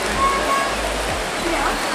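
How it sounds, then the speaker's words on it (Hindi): Hot spring water flows and splashes steadily into a bathing pool at Manikaran, a loud, continuous rushing wash with faint voices mixed in. "ये है मणिकरण का गर्म पानी कुंड, तो यहाँ पर देख सकते हैं कितना गर्म पानी है।"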